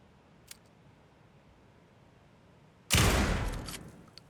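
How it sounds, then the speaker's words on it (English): A fully automatic 12-gauge shotgun firing in Alan Wake 2, heard as one heavy, loud blast late on that rolls off into a decaying boom after near silence and a faint earlier click. "My trusty 12 gauge, fully automatic."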